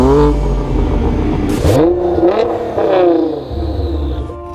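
Audi RS5 quattro launching off the line in a drag race, engine revving loud and close with a quick upshift and rising harmonic whine as it pulls away, no talking.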